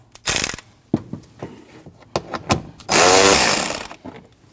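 Power tool spinning out 8mm bolts holding the AC condenser fan to its shroud on a 2012-2021 Nissan NV2500 5.6L V8, two short close whirring bursts with clanks and ratchety taps between them.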